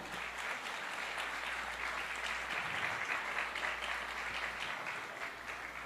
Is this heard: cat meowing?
no